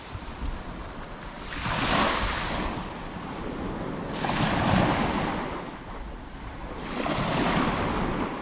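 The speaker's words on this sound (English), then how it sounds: "Can hear the gushing water in the background" Waves surge and wash onto the shore at a scenic coastal spot in Scotland, swelling in three broad gushing roars a few seconds apart over steady wind noise.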